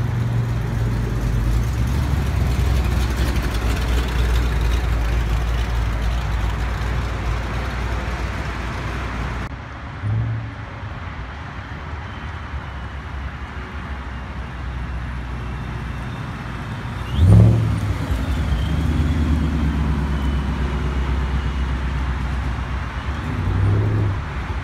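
Exotic cars at the Indy Cars and Coffee meet in Indianapolis give a constant outdoor engine and traffic rumble, with a deep engine idling early on, a brief rev around the middle and a louder pass later.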